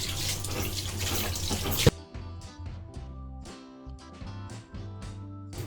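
Water runs from a tap briefly, then stops, followed by splashing and sloshing as goat intestines are swished and rubbed in a basin of water.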